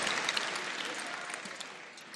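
A crowd applauds steadily at a mushaira, an Urdu poetry gathering in Barabanki, India. The clapping is dense and continuous with a roomy feel and barely changes in loudness over a couple of seconds.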